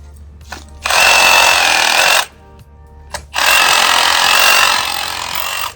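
A Sawzall reciprocating saw cuts through Christmas tree limbs in two loud, steady bursts of buzzing with a brief quieter pause between them, close up and with no talking.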